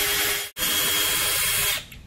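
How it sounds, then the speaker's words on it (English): A power drill bores small pilot holes into a hard wall surface for screws, its steady high whir running close and loud for nearly two seconds with one brief break before it winds down. "I'll use a smaller drill bit to drill pilot holes for the screws."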